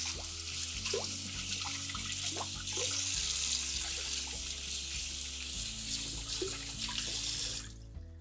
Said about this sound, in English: I'm gonna give my hands a rinse.